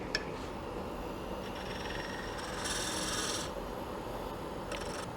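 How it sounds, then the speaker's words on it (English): Detail gouge parting off a turned wooden lidded box on a lathe, a steady close rasping scrape that holds evenly for several seconds, swelling a little brighter partway through with no talk. "taking it real easy with this detail gouge, parting that off"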